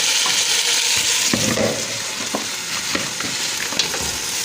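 Masala, chana dal and bottle gourd fry in a pan for a dhaba-style lauki dal, giving a steady loud sizzle broken by a few scraping stirs, with no voices.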